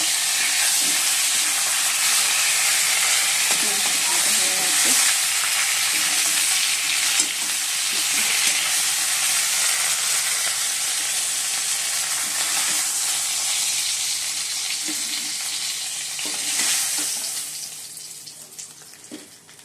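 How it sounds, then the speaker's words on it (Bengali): Fish fries in a pan with a loud, steady, close sizzle and crackle that keeps going, with a few stirring knocks, before it fades off near the end. "বন্ধুরা মাছটা ভেজে নিচ্ছি"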